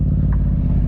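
A motorcycle engine rumbles loud and close, a deep steady throb at a raised idle with no clear climb in revs over a short moment.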